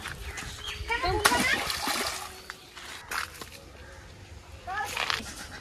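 A fish released into a pond makes a couple of short, close splashes, and people talk and a child calls out in the background.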